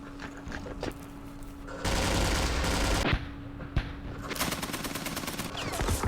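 Bursts of machine gun fire from the Vietnam war game Campaign Series Vietnam, set at Dien Bien Phu: dense rapid rattling volleys in two long stretches, loud and close, with sharp single cracks between them.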